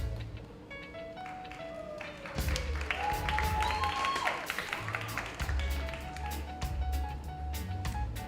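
Audience clapping at a performing-arts awards ceremony, moderate applause rising after a couple of seconds and continuing steadily under a sustained musical tone.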